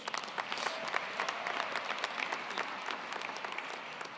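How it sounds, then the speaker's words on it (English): An audience applauds at a fall commencement ceremony. A broad, steady wash of many hands clapping fills a large space, heard at a moderate distance with no voices on top. "Please give them another round of applause."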